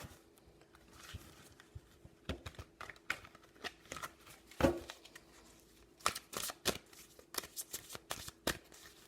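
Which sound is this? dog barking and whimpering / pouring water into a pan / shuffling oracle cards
shuffling oracle cards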